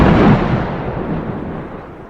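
Ear-shattering thunder crashes during a storm at night over a boat, a loud, close rumbling boom that decays steadily over about two seconds.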